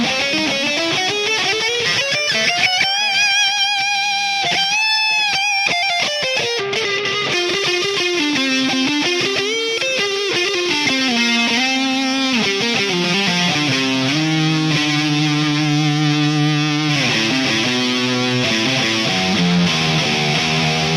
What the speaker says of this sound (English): Lead tone is that, but with reverb and delay.